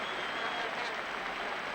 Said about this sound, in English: the Spanish crowd are generously applauding Trevor Francis